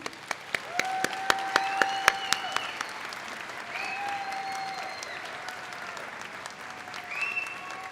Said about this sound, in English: So please give her a big round of applause again.